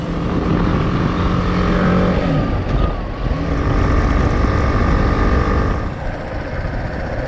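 A BMW G310GS motorcycle riding along gravel roads near Old Mountain Loop toward Darrington, its engine droning loud and steady throughout with heavy wind rush and shifting engine tones.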